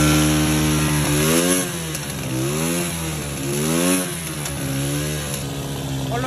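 A motorcycle engine idles with a steady, throaty rumble, rising and falling in pitch through a couple of revs, loud and close.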